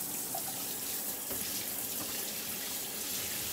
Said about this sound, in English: Do your shower, hot and cold. Just let it run until it gets clear.